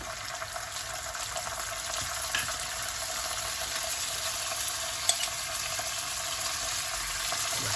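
Ginger garlic paste frying in a pan for prawn cashew pirattal, a steady soft hiss and sizzle with faint stirring scrapes, constant and close throughout.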